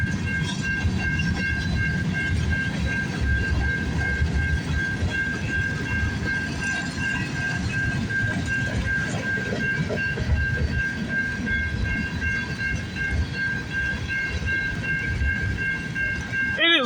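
CN freight trains M394 and A421 rolling past at Scotch on a foggy, pouring-rain New Year's Eve morning, a steady close rumble with faint wheel clatter and a sustained horn tone running throughout, no talking.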